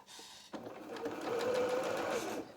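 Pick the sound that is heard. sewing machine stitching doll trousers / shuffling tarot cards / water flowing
sewing machine stitching doll trousers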